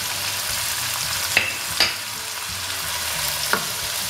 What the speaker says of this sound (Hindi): नमक मिर्चें हल्दी और लहसुन अदरक के साथ हमने इसको 2 मिनट भून लिया है।